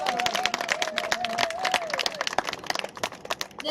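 An indoor audience claps and cheers for first-time attendees at a Green Party Week event, a brisk run of many hands with scattered shouts, fairly close, while a voice briefly rings out above it.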